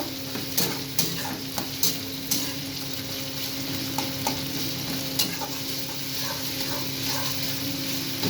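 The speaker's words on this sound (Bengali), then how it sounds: "তেল ছেড়ে দিয়েছে ভাজা প্রায় হয়ে গেছে" Fish masala fried in oil in a pan, a steady close sizzle broken by repeated scraping stirs and light clinks of a spatula against the metal pan.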